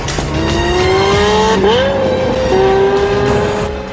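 A high-revving Lexus LFA sports car engine in the Forza 4 video game climbs in pitch, dips briefly, then screams up again, loud and close with a slight tire squeal.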